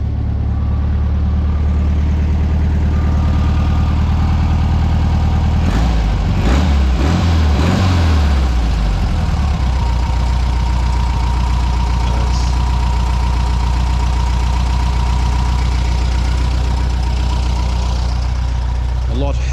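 Tuned carburetted Volkswagen engine starting and idling steadily, a low continuous rumble with a brief burst of revving near the start before settling into an even idle.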